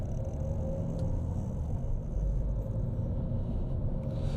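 A car's engine rumbles steadily from inside the cabin as it moves away on a hill on a driving route in Raheny, a low continuous drone with a slight swell partway through and no talking.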